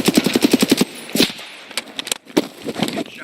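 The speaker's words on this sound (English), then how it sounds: "Getting shot at." Rapid automatic gunfire from Escape from Tarkov rattles out in a fast burst, followed by scattered single shots and sharp cracks at varying distances.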